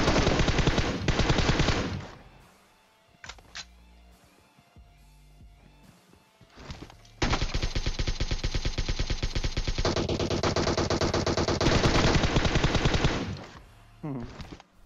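Automatic rifle fire in the mobile battle royale game PUBG Mobile, with an M416 and a 6x scope in play: long rapid sprays of loud gunshots, a pause with a few scattered shots, then another extended sustained burst.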